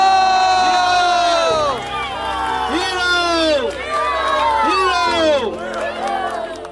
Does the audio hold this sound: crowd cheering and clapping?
yes